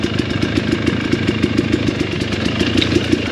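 A dirt bike motorcycle on the Shake Creek single-track trail near Baumgartner, Idaho, its engine running close and loud with a fast, even putter of firing pulses and mechanical clatter throughout.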